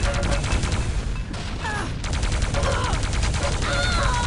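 Plasma gun fire in a Quake Live team deathmatch match: a rapid, loud, continuous stream of rhythmic shots with brief electronic zaps layered over it, no voices.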